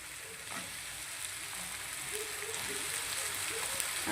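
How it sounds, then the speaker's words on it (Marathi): Cut bottle gourd pieces hit a hot wok with spices and chopped coriander, giving a steady, soft, close sizzle with faint crackles throughout and no talk. "आता ह्याच्यात ॲड करूया कट केलेला भोपळा."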